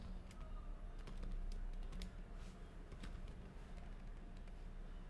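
Typing on a computer keyboard, with quiet, irregular key clicks in quick bursts under a low room hum.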